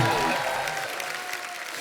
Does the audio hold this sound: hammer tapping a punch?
no